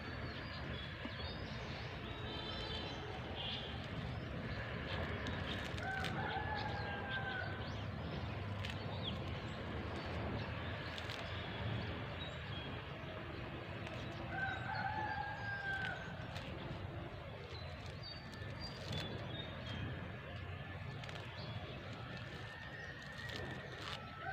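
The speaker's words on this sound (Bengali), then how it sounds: "এগুলি বড় বড় মুরগি ঢুকছে তো দেখছো নি" Chickens cluck and roosters crow repeatedly at a moderate distance, several calls rising over a constant background murmur, with no talk.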